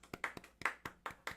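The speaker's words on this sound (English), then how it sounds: "Golf clap, golf clap." One person gives a slow golf clap, six light, evenly spaced claps close by with no crowd and no talking.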